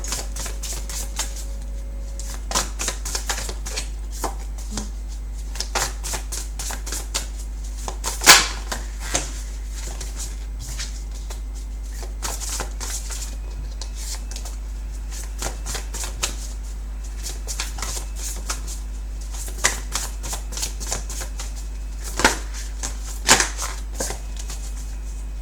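Tarot cards are shuffled by hand, bursts of crisp rapid card riffles and taps, near and fairly loud, repeating in irregular clusters over a low steady hum, with no talk.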